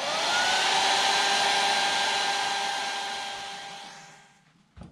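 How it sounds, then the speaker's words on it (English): A hair dryer blows steadily and loudly over a watercolor painting, a constant whooshing hum with a faint tone that fades out near the end before a brief click. "Now we're going to implement the hairdryer a little bit."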